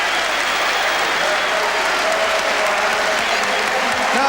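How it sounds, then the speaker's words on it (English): A large football stadium crowd of Tottenham fans applauds a goal loudly and steadily, a dense roar of clapping and cheering throughout. "he gets applause from his manager on the bench and from the Tottenham fans as well"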